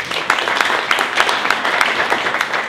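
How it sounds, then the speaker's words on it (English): An audience at an indoor organization event claps together in a dense, steady round of applause, moderately loud and even, lasting just a few seconds. "so give Deanna a round of applause"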